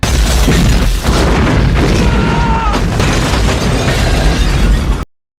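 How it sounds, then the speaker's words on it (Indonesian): A loud, sustained explosion roars and rumbles for several seconds, broad and crackling, then cuts off abruptly. "tapi terjadilah ledakan lagi"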